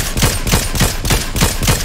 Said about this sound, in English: I feel like someone just shot at me